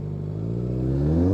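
A car exhaust revs on a country lane, one rising, throaty engine note that climbs steadily and grows louder, close by, with no talk.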